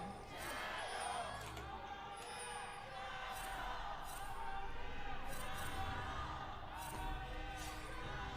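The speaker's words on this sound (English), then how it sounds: "Let's listen to the crowd for a second or two." Distant esports arena crowd at a League of Legends LPL match between LGD and OMG, a steady wash of cheering and whoops rolling on for several seconds with no voice on top.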